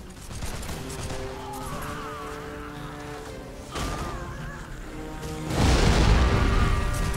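Cannon blasts in a Warhammer: Mark of Chaos battle, a run of booming explosions over a busy battlefield din, with the loudest, broadest burst landing near the end.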